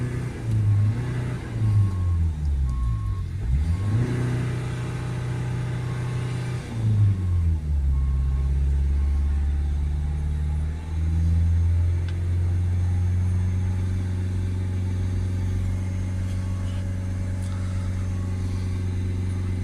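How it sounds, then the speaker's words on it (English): A Citroen C4 Grand Picasso engine with a worn particulate filter revving up and down several times, pitch rising and falling in sweeps, then holding at a steady raised hum. "Let's give it a few spike revs up and down."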